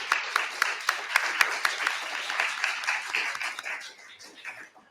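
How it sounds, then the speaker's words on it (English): A conference audience applauds a panel at a documentary forum, steady distinct claps forming a lively round that thins out and fades near the end. "a big round of applause for our panel"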